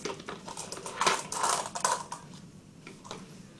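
A child pours small objects from one bowl into another during a play activity, giving a close, scattered patter of light clicks and rattles that swells in the middle and then thins out.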